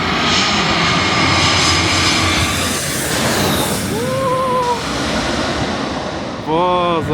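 A fixed-wing airplane roars low overhead on its landing approach, a loud sustained engine drone over wind noise. A person speaks briefly near the end.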